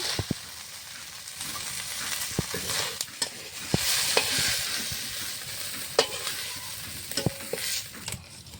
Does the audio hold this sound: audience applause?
no